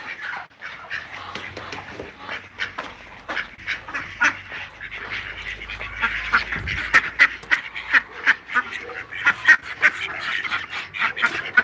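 A pet duck named Dino Duck quacks in repeated bursts that grow louder and more frequent, kept indoors among household noise, with a helicopter faintly overhead.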